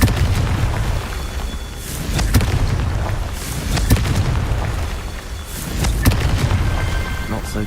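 Fire spell blasts in Hogwarts Legacy, a dense run of booming explosions and crackling bursts repeating in quick succession over a constant rumbling battle din.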